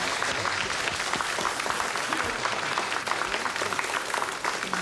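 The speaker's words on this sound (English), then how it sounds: "Give them a round of applause." Studio audience of a quiz show clapping for a contestant family after a round, dense even applause from a crowd, moderately loud and continuous for several seconds.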